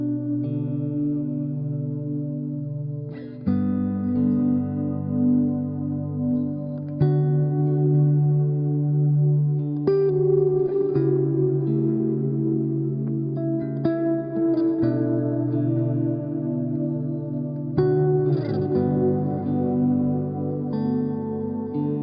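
Ambient guitar swells fed through a delay pedal on a pedalboard, with sustained notes blooming in slowly and overlapping in a long washy tail, with several new swells entering every few seconds, steady and alone.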